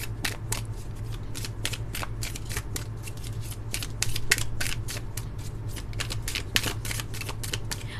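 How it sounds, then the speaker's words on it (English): Tarot cards are shuffled close by in a quick, regular run of crisp riffling flicks that repeat throughout, with no one speaking. "I'm gonna pull out more cards."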